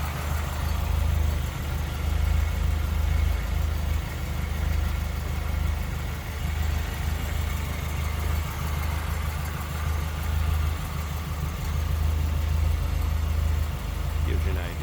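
A 1977 MG MGB with a 1.8-liter inline-four engine idles steadily for the whole stretch, a constant low, throbbing rumble with little change in pitch.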